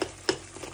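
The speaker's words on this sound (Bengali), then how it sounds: "আমার লটিয়া মাছ কষানো প্রায় হয়ে গেছে, আর একটু বাকি আছে, একটু কষিয়ে নিই" Lotia fish stir-fries in a pan with a soft, close sizzle and a few light scraping stirs over a brief moment, with no talking.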